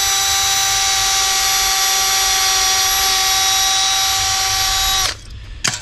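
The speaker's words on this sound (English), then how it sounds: "I'm just going to drill the hole in here." A power drill whines loudly and steadily as it bores a hole into a garden fence post, its pitch holding constant for about five seconds before cutting out, followed by a few short rattling bursts.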